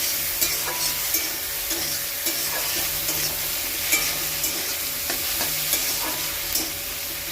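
Prawns and tomato stirred and fried in a pan make a continuous loud sizzle, broken by regular scraping knocks from the spatula that repeat every second or so.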